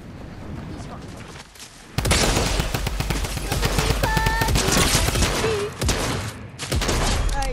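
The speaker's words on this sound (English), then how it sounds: "I got an auto shotgun now." Rapid, loud bursts of automatic shotgun fire in a Lucky Block video game, dense repeated blasts starting abruptly and continuing with short pauses, with a player talking over the shooting.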